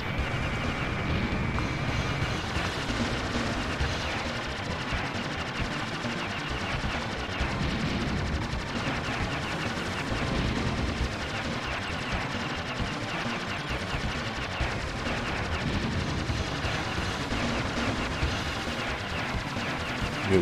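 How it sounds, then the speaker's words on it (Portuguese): Machine gun fire in the SNES shooter Aero Fighters rattles almost without pause for twenty seconds, a dense, steady barrage of game gunfire and explosions with no talk. "É os caras atirando mesmo fora da tela."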